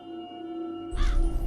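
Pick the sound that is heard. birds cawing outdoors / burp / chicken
birds cawing outdoors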